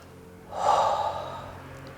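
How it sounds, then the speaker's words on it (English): A single deep, airy inhalation swells and then slowly fades, close and soft, during a calm self-care facial session, with no talking. "Lovely deep breath in"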